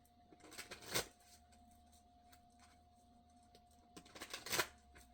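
Two quick bursts of cards being riffle-shuffled, faint and close, separated by a few seconds of near silence.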